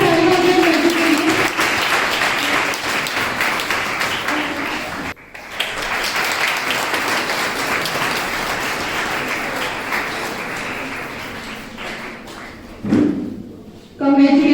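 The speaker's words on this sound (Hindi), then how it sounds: "जोरदार तालियां हो गई मंजू के लिए।" A college audience at a spring festival prize ceremony in Hisar gives loud, sustained applause for a student, dense clapping that continues for many seconds, breaks briefly, then resumes before fading with a voice over the end.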